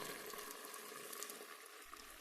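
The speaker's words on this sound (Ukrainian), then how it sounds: "Заливаємо банки гарячою водою." Hot water pours steadily into glass jars being sterilized for canning marinated pattypan squash and zucchini, a soft continuous hiss of filling liquid heard alone at close range.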